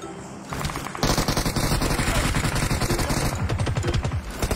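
Rapid automatic gunfire in the mobile shooter PUBG Mobile, a sustained burst of fast, evenly spaced shots after a brief quieter start, loud and close.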